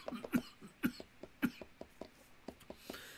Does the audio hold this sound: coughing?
yes